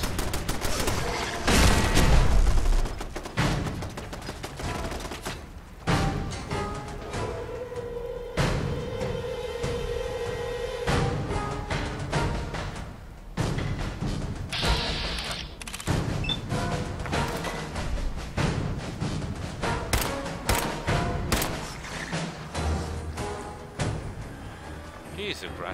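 Gunfire rattles through a Fallout 4 survival-mode fight as turrets are destroyed: dense bursts of shots and heavy impacts come in waves over background game music, with a player talking throughout.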